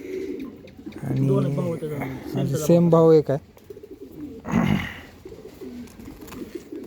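Racing pigeons of an Andhra line held in hand, giving soft cooing calls beneath and between close male speech, with a brief rustle near the middle.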